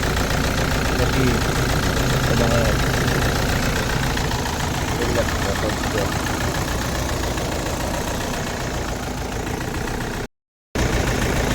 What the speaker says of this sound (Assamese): গাড়ীখনো ষ্টাৰ্ট হৈছে গাড়ীখনৰ ইঞ্জিনৰ চাউণ্ডটো অলপ বেলেগ হৈ গৈছে